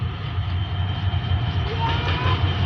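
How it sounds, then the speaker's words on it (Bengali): A long train rolls past nearby as a continuous low rumble and rattle of many cars, with faint wheel clatter, heard steadily with no talking. "এটা অনেক বড় ট্রেন, দেখছো কয়টা বগি"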